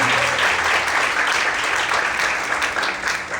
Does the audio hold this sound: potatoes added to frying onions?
no